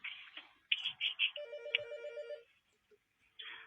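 A telephone rings on an FM radio talkback show, a bright trilling electronic ring repeated in short bursts with a sustained tone, followed by a brief pause and the start of another ring.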